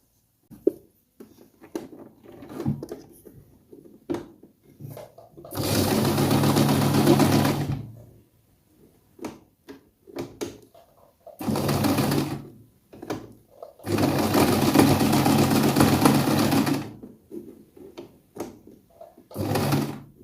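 A Silvercrest sewing machine runs in three loud stitching bursts of steady rapid whirring, each lasting a few seconds, separated by quieter handling clicks and fabric rustle.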